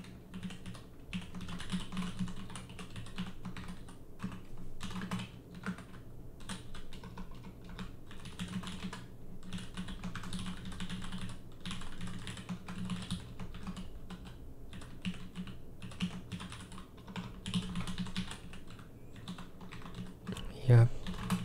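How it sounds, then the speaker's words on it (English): Steady keyboard typing runs throughout, a dense stream of clicks over a low background hum, close and moderately loud. "I kind of like typing too"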